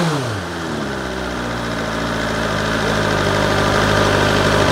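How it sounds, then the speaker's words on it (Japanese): A BMW M1000R motorcycle engine idles loudly and steadily up close just after starting, held around 2000 rpm, a deep mechanical rumble with a rough exhaust note, its pitch settling after a brief dip. "メカニカルノイズプラス排気音のデカさ、特にエンジンかけたては2000回転ぐらいキープするんで"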